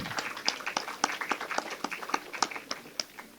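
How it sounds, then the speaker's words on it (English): A summit audience applauds in honour of a former dean, a light, scattered clapping with individual claps distinct, moderately distant and fairly quiet. "I would like you all to take a moment to give him a clap."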